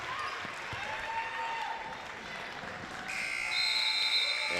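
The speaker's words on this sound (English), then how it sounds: "Canton will not have a chance to get a shot off before the buzzer sounds" Arena buzzer ending the first half of a girls high school basketball game, a loud sustained electronic tone starting partway through over gym crowd noise, sneaker squeaks and a ball bounce.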